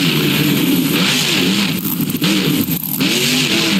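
Monster truck engine in the BeamNG Drive racing game, a loud continuous revving drone with rising and falling pitch sweeps, brief dips midway, no talk.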